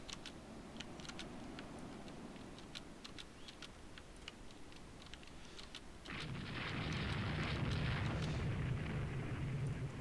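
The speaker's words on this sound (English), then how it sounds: "that's Ping Hai getting shot at by the coastal battery" Naval gunfire from the Rule the Waves 2 naval strategy game, a coastal battery firing on a ship: scattered sharp ticks and distant thuds, then a heavier sustained rumble of explosions from about six seconds on.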